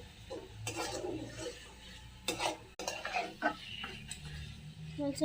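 Tomatoes being stirred into chicken curry in a pot, with scraping utensil strokes and clinks against the metal over a low background hum, several distinct stirring bursts in close succession.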